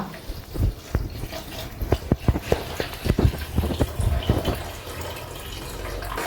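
Coconut milk poured into a pot of boiling payasam on a hot stove, with uneven splashes and bubbling pops in a loose rhythm that settle into a steady simmer, close by and without talk.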